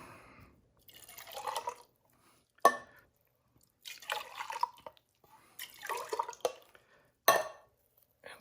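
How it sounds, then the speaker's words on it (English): Hot water is poured from can to can to rinse them out while making crockpot chili, giving splashing pours in three bursts, each punctuated by a sharp metallic clink of the cans. "put a little hot water in a can, and then I can pour it from can to can and rinse all that out"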